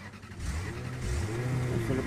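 A car engine starts up and runs in the ROS (Rules of Survival) shooter game, a low droning hum with a rising pitch sweep, steady and moderately loud.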